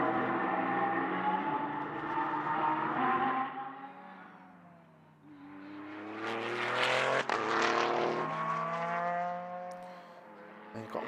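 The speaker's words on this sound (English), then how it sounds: "Wonderful mix of different engines in here as well" GT race cars circling the Paul Ricard circuit, a mix including a V10 Lamborghini and a thumping V8, roar past close by, with engine notes rising and falling as several cars accelerate through and fade away.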